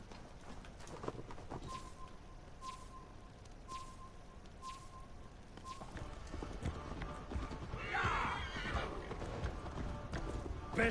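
A horse in the video game Assassin's Creed Valhalla trots with steady hoof clip-clops, then gives a loud neigh partway through, with voices talking faintly in the background.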